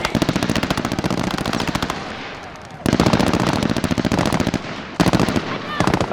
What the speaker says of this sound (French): Ça fait des tirs, Kai.